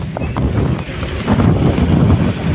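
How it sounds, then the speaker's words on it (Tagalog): Strong typhoon wind gusts buffet the microphone with a low, rumbling roar that swells and surges over a few seconds. "medyo lumalakas na po talaga yung hangin"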